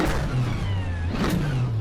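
A modded car engine in Assetto Corsa revs steadily, a mid-pitched droning tone with rising and falling pitch and a whining overtone, heard close and alone.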